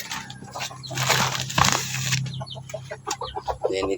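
A Shamo gamecock kept in a cage gives clucks and a burst of wing flapping near the middle, then short choppy calls and rustling toward the end, all close and fairly loud.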